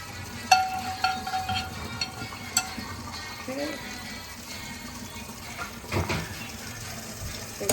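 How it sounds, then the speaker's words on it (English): Cold tap water runs steadily into a kitchen sink while noodles for Korean pork rice soup are being strained, a soft continuous wash with a few clinks and knocks on top. "So I just have cold running water here."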